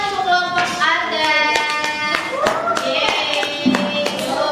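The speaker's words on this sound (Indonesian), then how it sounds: "tepuk tangan untuk kelompok Anda" A classroom group claps for its classmates during a coaching session, a loose scatter of individual claps and taps mixed with overlapping children's voices and cheering at close range.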